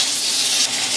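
A ribeye steak sears fat side down in a hot, lightly smoking pan, giving a steady, close, loud sizzle with no pauses and no voices.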